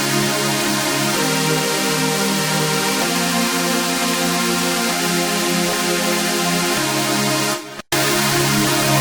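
Distorted synth part built on chords with some extra notes, fast distortion, low end cut by EQ and a filter applied, playing loud and dense in sustained chord blocks, with a brief dropout to near silence near the end.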